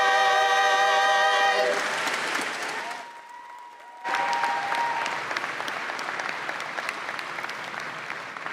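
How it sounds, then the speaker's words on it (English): A sustained note from a gospel choir fades out at a spring commencement ceremony, then a loud burst of applause from a large audience follows and continues steadily. "One more round of applause, please."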